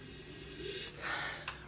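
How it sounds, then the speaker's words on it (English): Close, breathy sniffing through the nose at a glass of red wine, a couple of drawn-in inhales with a faint click near the end. "Let's give it a little bit of a sniffy sniff"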